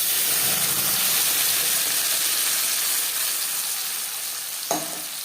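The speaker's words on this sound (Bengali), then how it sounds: "রিফাইন্ড অয়েল গরম করে নেওয়ার পর দিয়ে দেব মশলার পেস্ট" Spice paste frying in hot refined oil for restaurant-style ghugni, a steady loud sizzle throughout, with one sharp clatter near the end and no voices.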